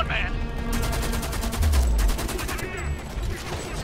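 Rapid automatic gunfire from the Homefront video game, with sustained bursts rattling across the clip, a heavy low thump near the middle, and the shooting continuing loud and close throughout.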